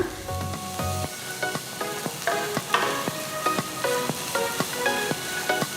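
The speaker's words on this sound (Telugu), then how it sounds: "ఇందులో పొడవగా తరిగిన ఐదు వెల్లుల్లి రెబ్బలు వేసి బాగా కలిపిన తర్వాత" Sliced onion and five long-cut garlic cloves frying in a pan, giving a loud continuous sizzle punctuated by a rapid, regular series of spoon scrapes and clinks as it is stirred, with no voices.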